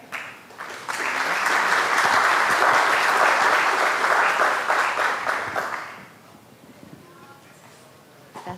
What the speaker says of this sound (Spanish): Ahora recibimos con un fuerte aplauso a la arquitecta Viviana Paniagua.